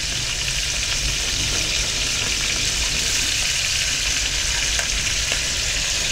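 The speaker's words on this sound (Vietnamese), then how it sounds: "Thì con mực nó xèo lên rồi mọi người ơi." Steady, loud sizzling of large squid frying in a hot pan, a continuous crackling hiss with no voices.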